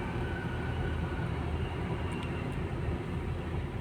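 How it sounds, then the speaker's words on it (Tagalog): A train rumbles past near a bridge in a steady, loud, broadband roar filling the whole stretch, with faint high squeals from the wheels and no talk. "Yun may train na dumaan."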